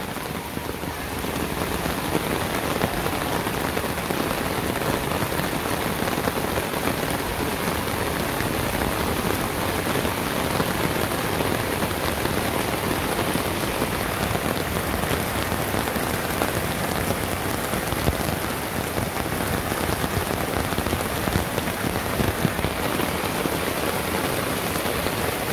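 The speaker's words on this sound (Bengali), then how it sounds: "না বুঝলেও হয়তো বা বৃষ্টির শব্দের জন্য বোঝা যাবে না" Steady rain falls in a village, a dense, even hiss of drops on surfaces that continues unbroken throughout with no voices.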